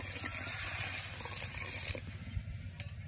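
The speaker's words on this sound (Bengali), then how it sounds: "জল দিয়ে দেব।" Water pours steadily into a wok holding palm pulp, a continuous close gushing splash that thins slightly toward the end, with no voices.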